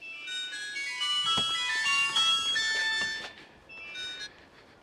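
A melodic electronic phone ringtone plays a bright tune for about three seconds, pauses, then starts again briefly.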